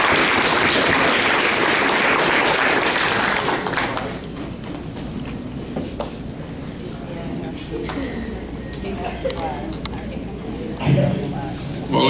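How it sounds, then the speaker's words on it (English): Audience applause at a 100th birthday party, a steady wash of clapping from a crowd for several seconds that thins out into scattered claps and room noise, with a brief thump near the end. "give him a round of applause"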